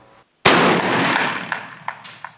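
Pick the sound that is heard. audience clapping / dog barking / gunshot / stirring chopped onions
gunshot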